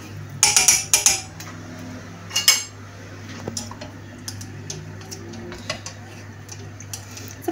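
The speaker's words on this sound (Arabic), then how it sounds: "غادي نبقى نحرك." A utensil stirs milk in a pot while béchamel thickens, giving quick metallic clinks and scrapes in a few bursts early on, then fainter scattered taps over a low steady background hum.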